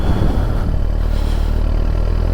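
A 1000cc motorcycle engine held at the lightest touch of throttle, a loud close low rumble with a steady lumpy pulse and mechanical clatter, continuous and unaccompanied by voices.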